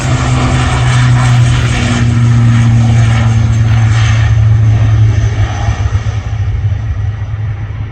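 Aer Lingus propeller airliner engines run at Manchester Airport, giving a loud, steady droning hum with a low throb that holds for several seconds before slightly easing.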